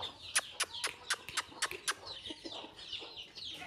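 Chickens cluck in a quick, irregular series of short calls, fairly faint, with a few softer clucks trailing off at the end.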